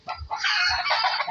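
Hens in a backyard chicken coop cluck and call loudly and close by, one bird letting out a sustained crowing-like squawk over the clucking.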